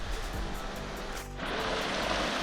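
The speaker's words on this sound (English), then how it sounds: "There's a river over here, really a stream" A mountain stream along a Jeep trail near Soldier Summit, a steady broadband rush of flowing water, close and fairly loud, with a brief dip and a low thump partway through.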